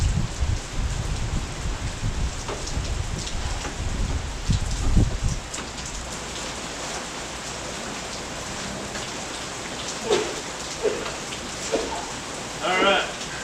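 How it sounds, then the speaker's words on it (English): Steady rain falling, a dense patter of drops on surfaces, heavier with low rumble at first, then lighter, with occasional voices talking in the background. "We've had enough rain this year to"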